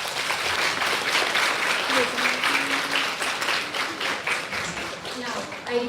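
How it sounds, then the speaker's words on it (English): Sustained audience applause at a college mock parliament event, a dense even wash of many hands clapping for about six seconds, with faint voices and a brief tone underneath. "Let us welcome her with a huge round of applause"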